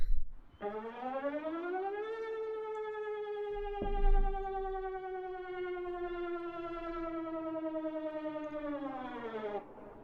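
Emergency alert system siren from Finland, a loud sustained rising-and-falling civil defense wail with strong harmonics, ramping up at the start and dropping off at the end, with a brief thump midway.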